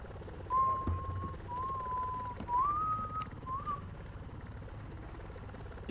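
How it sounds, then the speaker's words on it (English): A person whistles a sustained, wavering tune of several drawn-out notes, mid-level and clear over a steady background rumble during outdoor squad training. "Please don't whistle."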